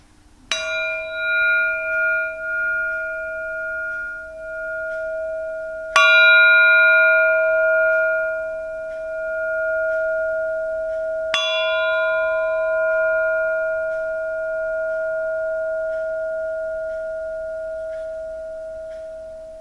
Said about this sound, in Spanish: Van a escuchar el gong